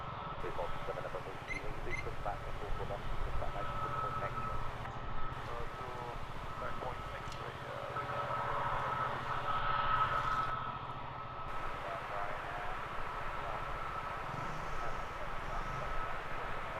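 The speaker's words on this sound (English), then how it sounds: "Jet 2, number 2 to depart." A Jet2 airliner departs from Luton Airport, its engines rising as a steady, distant roar with a broad rumble that swells and holds across the whole stretch.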